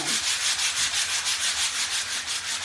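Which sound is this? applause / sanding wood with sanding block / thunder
sanding wood with sanding block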